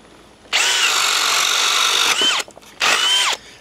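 Bosch 1330c drill in drill mode at speed 2 drives a 1 1/8-inch speed demon bit into wood with a high, steady whine, then two short bursts after a brief pause, close and loud.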